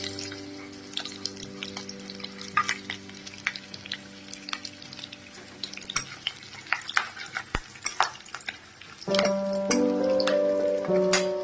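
Whole cumin seeds and green chilies fry in hot oil with a steady close sizzle, broken by sharp spatula scrapes and clinks against the pan, and the frying swells louder near the end.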